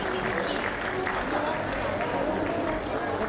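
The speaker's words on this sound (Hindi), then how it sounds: "एक बार जोरदार तालियां।" Audience applause breaks out at a Jain Panchkalyanak Pratishtha Mahotsav ceremony in Rajnagar Extension, Ghaziabad, a dense, steady clatter of clapping that holds for several seconds with faint voices and tones mixed underneath.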